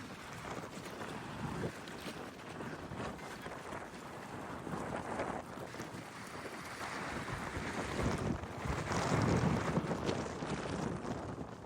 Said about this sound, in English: seeing as the wind's blowing.